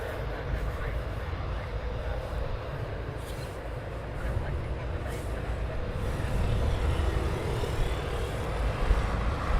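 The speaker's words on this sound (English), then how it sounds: "at 950, they're taxiing out as we speak" Military jets taxiing at RAF Coningsby during a NATO exercise, a broad steady engine roar that swells slightly toward the end, heard from a distance through strong gusting wind, with some faint talk nearby.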